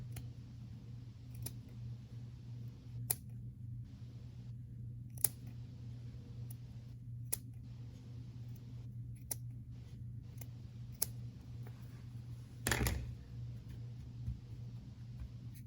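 Scissors trimming the yarn ends of a peg loom weaving, heard as a few sparse, sharp snips and clicks spaced several seconds apart over a steady low hum, with one louder rustle near the end.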